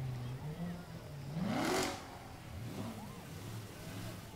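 A parade vehicle's engine revs up in a single swelling burst at a 4th of July street parade, with crowd murmur and faint voices around it.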